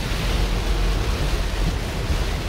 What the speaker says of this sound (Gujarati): ખૂબ મોટા પ્રમાણમાં વરસાદ પડે છે